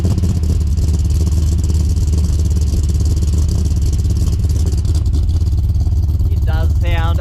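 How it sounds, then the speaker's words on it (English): An LS1 V8 in a VN Commodore with a twin 3-inch exhaust runs on a dyno, a loud, steady low rumble filling the whole stretch, with a brief voice breaking in at the end. "this is the first time I'm hearing the exhaust too"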